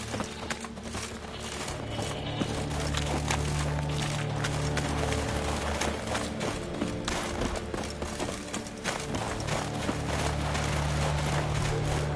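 A big plow horse in an island-life video game trots along, its hooves clip-clopping in a steady, fairly loud rhythm over a constant bed of game ambience, with no voices.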